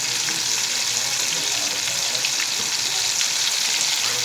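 Tomato fritters frying in hot oil while they are gently turned, making a loud, steady, dense sizzle that carries on through the whole stretch with no talking.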